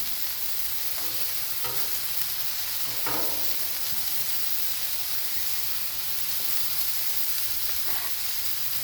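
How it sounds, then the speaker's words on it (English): Onions sauté in a little oil on a Blackstone griddle, a loud, constant frying hiss broken by a few soft scrapes and taps of a utensil. "I'm going to take my onions and get my onion stuff to saute"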